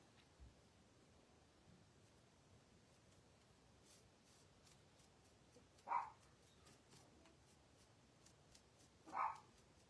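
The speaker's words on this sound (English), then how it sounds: "my mouthy puppy is barking" A loud, mouthy puppy gives two short, sharp barks a few seconds apart, faint and somewhat distant against a quiet indoor room with light rustling.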